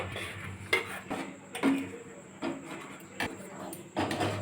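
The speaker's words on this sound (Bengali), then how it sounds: "দুধটা ঠান্ডা করে নিয়েছি এবার আমি আমের এই কাইটা আস্তে আস্তে মিশিয়ে দেব" Mango paste is stirred into cooled milk for kheer, a spoon scraping and clinking against the pot in a series of irregular taps and scrapes, close and clear.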